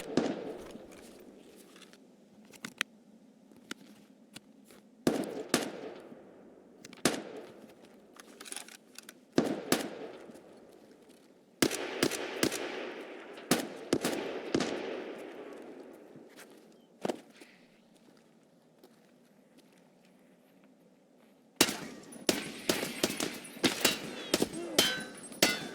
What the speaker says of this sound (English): Well, he's shooting at somebody else now.